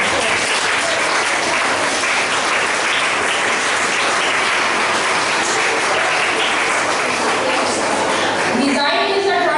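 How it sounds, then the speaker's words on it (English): Audience at a fashion technology career workshop clapping together, dense continuous applause filling the room for several seconds, with voices rising briefly as it fades at the end. "Clap for everybody who has answered"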